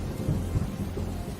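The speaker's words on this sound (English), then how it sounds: "Massive rains pour onto the face of the desert planet." Heavy rain with deep rumbling thunder, a dense, loud, continuous downpour with no talking.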